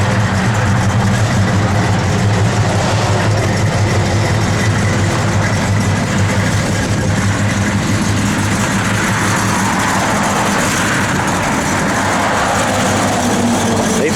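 A 1965 Chevrolet Malibu idles continuously for over ten seconds, a loud, steady low engine rumble heard close by with no speech over it.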